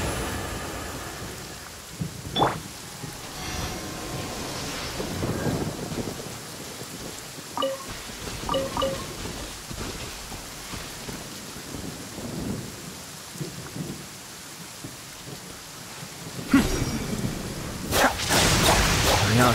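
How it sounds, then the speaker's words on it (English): Rain patters steadily while thunder cracks and rumbles at intervals in the video game Genshin Impact, with a sharper burst near the end. "It always rains when I go on an adventure."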